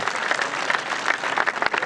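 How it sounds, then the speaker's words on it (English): Steady applause from a sizable golf gallery at a U.S. Women's Open playoff, many hands clapping continuously at a moderate distance, with no talking over it. "a nice round of applause for these 2 competitors"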